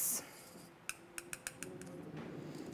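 Mica powder mixed with rubbing alcohol is stirred in a small container, producing a quick series of light clinks and taps against its sides over faint room noise.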